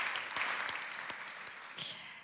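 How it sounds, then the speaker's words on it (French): An audience at a talk on entrepreneurship and risk gives soft, distant applause, a fairly even wash of clapping with a few sharper individual claps, faint throughout. "Vous pouvez l'applaudir si vous voulez."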